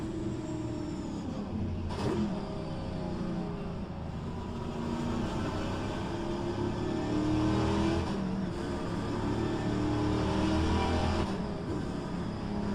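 A Pontiac Trans-Am race car engine in the racing game rFactor 2 drones steadily at high revs, with small shifts in pitch and a constant, moderately loud roar throughout.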